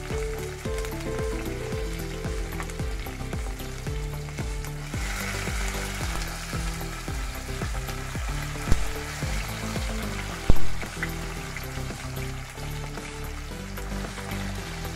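Onions and tomatoes fry in a pan with a continuous crackling sizzle, close and steady, broken by a couple of brief louder clatters.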